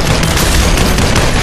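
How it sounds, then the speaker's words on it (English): A grenade goes off in the VR shooter Population: ONE, a loud, dense, roaring blast that fills the whole moment with crackling, gunfire-like noise and no voices. "He threw a grenade."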